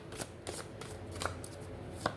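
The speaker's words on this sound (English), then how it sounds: "Let's shuffle, and then we shall read." An oracle-style karma deck of cards is shuffled by hand, giving a handful of soft, quick riffling bursts spaced irregularly over a couple of seconds, close and fairly quiet with no talking.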